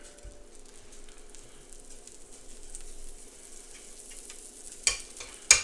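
Butter melts on a hot griddle with a faint, steady sizzle and soft crackling, followed near the end by a couple of sharper scraping or clattering touches.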